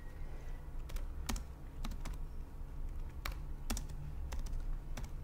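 Keys tapped on a computer keyboard while C++ code is typed, a soft run of close, irregular clicks with a few sharper keystrokes standing out, no talking.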